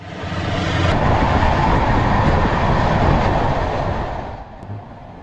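The 12246 Bengaluru–Howrah Duronto Express rumbling across the Mahanadi river bridge, a loud, steady roar from on board that swells in and then eases toward the end, with no talking.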